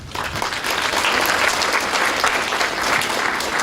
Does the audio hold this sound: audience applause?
yes